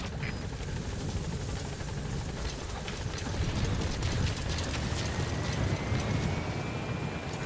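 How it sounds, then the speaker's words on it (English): A support helicopter in a PS4 video game arrives with a loud, continuous rotor thump and engine roar close by, steady throughout and heard alone without talk. "Support helicopter has arrived."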